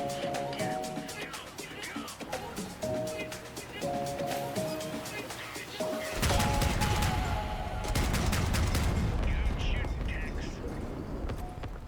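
Mandrake artillery in the vehicle combat game Crossout fires in a rapid string of sharp booming shots, joined by heavier rumbling blasts midway, under ongoing game noise with someone talking.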